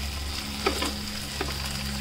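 Ground turmeric hits hot oil in a pan where arbi (taro root) is frying: a steady, close sizzle with a couple of brief stirring scrapes, and no talking.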